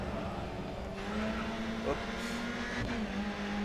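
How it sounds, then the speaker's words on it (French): Touring cars race in Grid Autosport, a fairly quiet steady engine drone with a rising pitch and faint tire noise, under a man's brief French remark. "Bon là ça va pas très très vite les voitures de tourisme"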